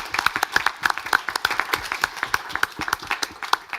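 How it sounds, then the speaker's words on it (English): Conference audience at a human rights panel clapping for the speakers, a moderate round of distinct, fairly rhythmic claps close by, with individual hand strikes clearly separated. "I think our speakers deserve a round of applause for their presentations"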